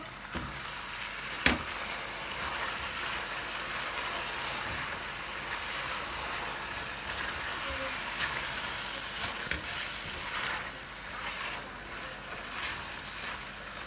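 Yogurt frying in chicken korma sizzles steadily in the pot, a soft continuous crackle with an occasional clink of stirring, close but fairly quiet and without talk.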